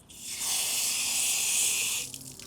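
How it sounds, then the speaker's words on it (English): Water runs from a hose or tap onto the bristles of a wheel-cleaning brush during car detailing, a steady, close hissing spray lasting about two seconds before stopping abruptly. "I actually like to pre-saturate the bristles of the brush with some water"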